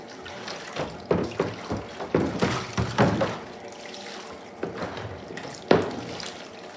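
Water splashes and trickles over a platinum palladium photographic print during a rinse, coming as irregular close bursts and pours with short quieter gaps, no talking.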